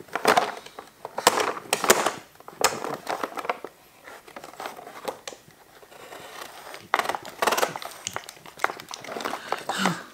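Plastic packaging of a DIY garage tool packet being opened close by, with bursts of crinkling, tearing and rustling separated by brief quieter handling.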